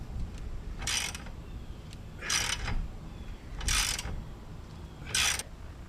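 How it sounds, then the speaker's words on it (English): A hand ratchet works a rear lower control arm bolt on a BMW E36, giving four separate bursts of rapid clicking spaced about a second and a half apart, close and fairly loud over quiet garage hum. "I can actually get a ratchet on it"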